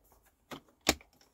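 A paper trimmer slicing through cardstock, heard as two quick, crisp snaps about a third of a second apart, close and fairly quiet with no talking.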